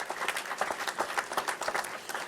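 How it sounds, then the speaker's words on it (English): Dense, steady audience applause fills a short stretch at the ceremonial launch of Glendale Community College's new Sierra Vista building, many hands clapping at once with no pauses. "I think we deserve a round of applause."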